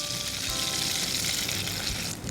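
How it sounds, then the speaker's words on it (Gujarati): Jain poha tikki shallow-frying in hot oil until golden brown gives off a continuous close, bright sizzle with fine crackling throughout. "ગોલ્ડન બ્રાઉન થાય ત્યાં સુધી આપણે એને તળી લઈશું."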